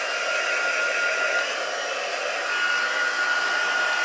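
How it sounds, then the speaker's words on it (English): A handheld heat tool blows hot air to melt embossing powder for a craft project, a steady, loud, broadband whoosh with a whining motor tone that holds evenly throughout with no talking. "just grab my heat tool"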